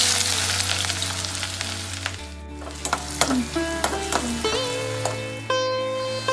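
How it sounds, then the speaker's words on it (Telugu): Chopped onion and green chili fry in hot oil in a pan, a close crackling sizzle with stirring clatter and scrapes over faint background tones. "నూనె వేడయ్యాక ఆనియన్ పచ్చిమిర్చి వేసుకోవాలి."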